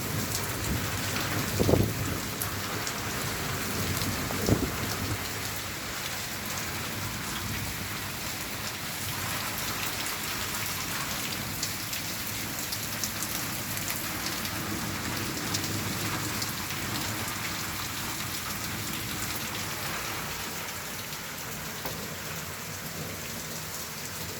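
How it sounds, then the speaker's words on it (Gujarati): Steady heavy rain pours throughout a thunderstorm in Mota Mandva, with a couple of sharp thunder cracks early on over the constant hiss. "વીજળીના કડાકા ભડાકા વરસાદ પણ લડી લેવાના મૂડમાં છે"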